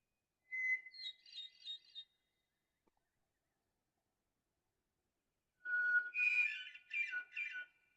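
Bird song slowed down and stretched out sounds like two bursts of searching, whistle-like phrases separated by silence, each made of several sliding, wavering notes.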